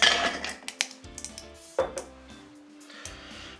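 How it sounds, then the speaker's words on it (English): Ice tossed into cocktail mixing glasses while making a White Negroni, with sharp clinks and rattles of cubes striking glass, then fading clatter as the ice settles. "we're gonna go ahead and toss some ice into our mixing glasses."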